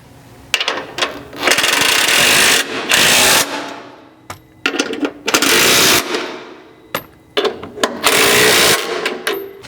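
Bursts of a power tool tighten a Ford Ranger's rock slider mounts to the truck frame with a 3/4 socket, several loud rattling runs of a few seconds each, separated by short pauses.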